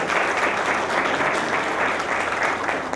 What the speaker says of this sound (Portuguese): peço uma salva de palmas para os nossos palestrantes e palestrantes